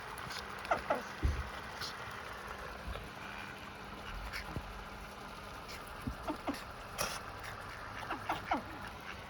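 Mallard ducks on open ground give scattered soft quacks amid pattering and rustling as they feed from a big bag of bird food, with faint outdoor background and no clear voices.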